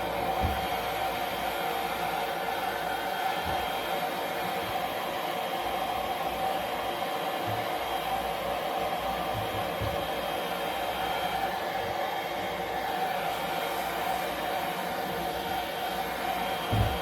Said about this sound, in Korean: 드라이기로 계속 열을 가해야 되거든요.